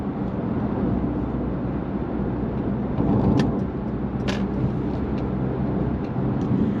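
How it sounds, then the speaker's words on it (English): A Mercedes-Benz E300 Coupé cruising in top gear at about 70 mph with the engine near 1900 RPM, giving a steady low road and engine drone with faint wind noise and a few brief ticks. "And at 70, this car revs to about 1900 RPM."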